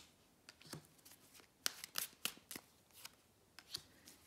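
Tarot cards being shuffled and laid out, a sparse series of crisp paper flicks and slaps spaced irregularly, close but quiet against a near-silent room.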